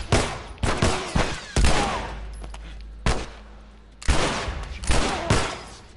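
Gunfire in The Last of Us video game: loud, sharp shots come in uneven bursts, several in quick succession, then a pause and another cluster, with no talking.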